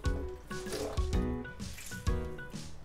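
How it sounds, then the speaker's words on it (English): Soaked wakame seaweed being squeezed by hand in a kitchen, giving wet, squishy squelches with a few drips of water, close and fairly quiet, over soft background hum. "So for the wakame, I'm just gonna squeeze this water out."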